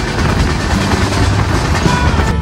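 Passenger train, the Kolkata–Jammu Tawi Express, running at regular speed out of Ayodhya Dham, heard from inside the carriage as a loud, continuous rumble and rattle with no voices.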